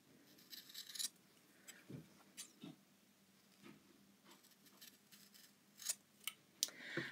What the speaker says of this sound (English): Now I want to reduce any bulk that's in the corners, so I'm just going to cut those off.